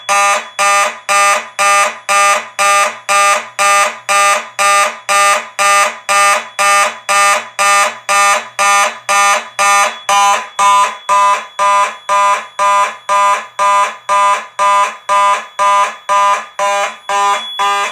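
A 4903-9221 fire alarm horn-strobe sounds in a march time pattern, with loud, even, rapid pulses repeating steadily at close range for the whole stretch, with no voices.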